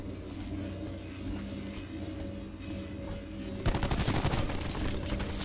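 Rapid bursts of automatic gunfire from a weapon in Call of Duty Black Ops 4, Safeguard mode, break in loudly after a stretch of ambient game noise, firing in a dense rattling stream.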